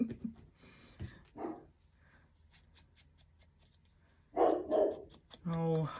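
A dog barks indoors in a few sharp bursts, close and fairly loud, between stretches of someone talking and quiet background.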